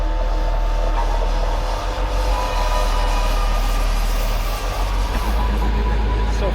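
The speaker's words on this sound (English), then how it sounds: "A freight train literally going nowhere, just riding around in circles." A very long freight train rolls steadily past on a circular test loop near a remote village, a loud continuous rumble of wheels and cars with low droning and metallic squeal, no talk.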